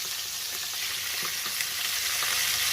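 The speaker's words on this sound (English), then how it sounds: "we're going to sear these off, probably for about 3-4 minutes each side" Chicken pieces sear in a frying pan with a bright, even hiss that grows slightly louder, with faint crackles and no talking.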